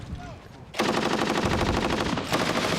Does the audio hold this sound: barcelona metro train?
no